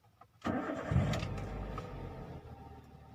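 A manual car's engine cranks briefly, catches and settles into a steady idle nearby, with no voices.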